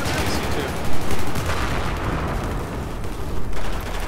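Battlefield 4 gunfire on the Dragon's Teeth map in Rush mode, a dense continuous crackle of rifle and machine-gun shots with a few louder bursts standing out against the busy battlefield background.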